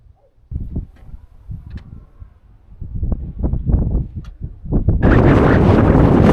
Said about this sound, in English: 7 p.m. and it is extremely windy